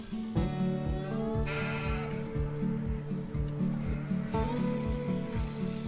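Sheep bleat repeatedly nearby on a farm, overlapping calls over a steady rhythmic thumping in the background.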